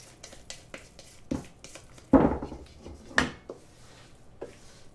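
Chocolate brownie batter is scraped into a buttered skillet, making faint scattered scrapes and taps with a couple of louder utensil knocks against the pan.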